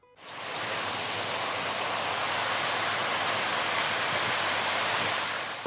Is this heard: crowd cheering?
no